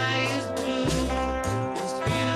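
Played slowed down and dropped in key, with sustained tonal chords shifting every half second or so at a steady, full level and no voice over it.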